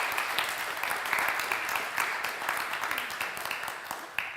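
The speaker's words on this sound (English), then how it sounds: "another round of applause for Luigi" Audience applause for a speaker at a symposium: dense, even clapping from many hands throughout, moderately loud with a roomy quality and a few sharper individual claps near the end, no clear talking over it.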